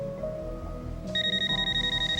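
A telephone rings in a soap opera scene. A steady pulsing electronic ring starts about halfway through, loud and close over a low background hum.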